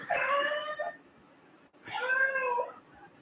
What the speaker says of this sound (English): That's a cat that just won't shut up.